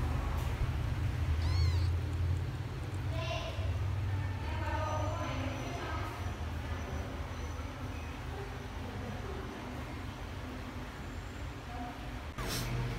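Newborn kittens give short, faint meows, a few brief cries scattered over a continuous low background rumble, with no clear talk.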